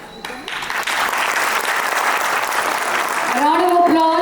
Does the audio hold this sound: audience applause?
yes